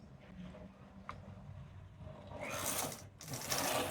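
A knitting machine carriage running across rows of a baby sweater, a soft mechanical hum followed by two louder whooshing sweeps near the end, heard alone and fairly faint.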